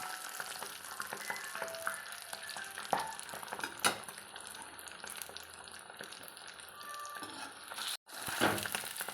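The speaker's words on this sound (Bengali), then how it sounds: "আমি ডিমগুলি খুব বেশি পরিমাণে ভাজবো না" Duck eggs fry lightly in a pan, giving a steady close sizzle with scattered scraping and utensil clinks, a brief break near the end.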